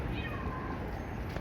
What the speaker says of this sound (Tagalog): Umiyak yung pusa.